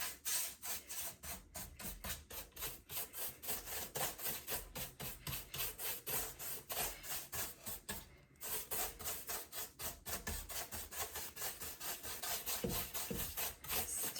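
A brush loaded with very little Dixie Belle paint is dry-brushed over a raised medallion, a steady close scratchy rubbing of rapid repeated strokes with a brief pause midway.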